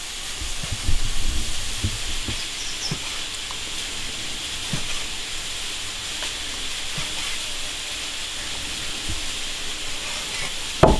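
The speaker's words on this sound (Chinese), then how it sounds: "锅烧干了，下辣椒、干煸，把它炒到糊皮状，香味炒出来" Dried chili peppers dry-fry in a hot iron wok, a constant hiss and sizzle with scraping stir strokes near the start and a clank at the very end.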